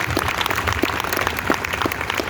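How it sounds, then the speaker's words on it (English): Busker show audience at Ottawa Buskerfest applauding steadily, a dense crowd of clapping hands filling the whole moment with even, continuous noise. "Give yourselves a big round of applause."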